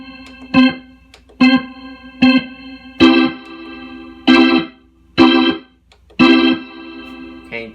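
A Hammond XK1c organ with reverb switched off plays six short chords in a steady rhythm, each sharp-edged and dry and stopping cleanly, with near silence between them.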